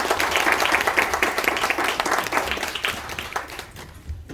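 An audience applauds at a corporate R&D conference in a Seoul hall, steady clapping that fills the room and then thins and trails off near the end.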